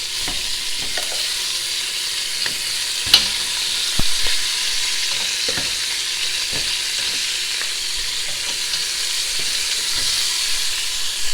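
Meat browns in a hot pot with a steady, loud sizzle, broken by scattered pops and a few faint clinks of a utensil.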